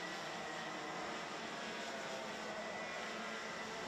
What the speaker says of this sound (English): That sounds like Miska Kaskinen's kart has got a loud exhaust